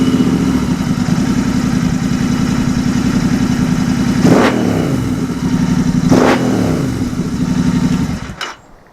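A Royal Enfield Interceptor 650 engine runs close and loud after a Stratos air filter install, with a steady idle rumble, two brief revs midway, and a sharp cutoff near the end.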